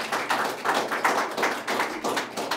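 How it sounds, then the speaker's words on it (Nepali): Applause welcoming Meenaram Khadka, Nepal's first Crown Diamond, at a DXN leaders' gathering, with rhythmic claps rising in waves over about two and a half seconds, fairly close and steady. "श्री मीनाराम खड्का सरलाई जोरदार तालीले स्वागत गर्न आग्रह गर्दछु"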